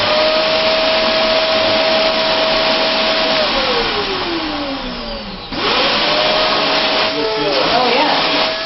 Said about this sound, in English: Take that off and feel the suction power.